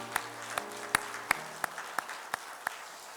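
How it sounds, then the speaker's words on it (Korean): A church congregation at a Sunday worship service claps after an award announcement: about nine sharp, evenly spaced claps, fairly faint, with no talking. "박수 치겠습니다."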